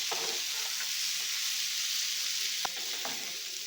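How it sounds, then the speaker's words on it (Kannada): Prawns frying in butter and garlic, a dense, even hiss of sizzling fat held close and steady, with a single faint clink partway through. "ಇದಕ್ಕೆ ಪ್ರಾನ್ಸ್ ಹಾಕ್ಕೊಂಡು ಸ್ವಲ್ಪ ಹೊತ್ತು ಫ್ರೈ ಮಾಡ್ಕೊಳ್ಳೋಣ"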